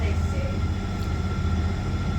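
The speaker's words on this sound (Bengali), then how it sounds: "এই গাড়ি চলছে ভালো ভালো স্পিড চলে এই গাড়ি" Train running at speed on a Mumbai-area line, a loud steady rumble and rattle from inside the carriage, with a voice talking over it.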